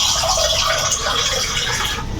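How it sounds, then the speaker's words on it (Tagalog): Water is poured into a container of pineapple juice, a loud, steady splashing gush that runs continuously and eases slightly at the end. "Tapos, alagyan natin ng tubig."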